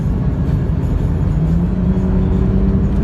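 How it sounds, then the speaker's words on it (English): BMW 335i accelerating on a highway between Kuala Lumpur and Singapore, a steady loud engine and road roar with a rising tone, heard from inside the car with no talk. "Sorry, acceleration time."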